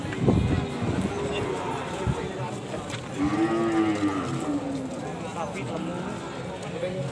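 Cattle mooing at a busy cattle market, Pasar Sapi Kragan, with several drawn-out lowing calls near and farther off amid crowd chatter and people talking throughout.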